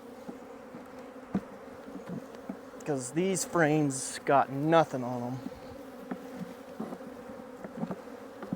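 Honey bees buzz steadily around an open hive during fall beekeeping work, a constant close drone under a voice speaking in the middle.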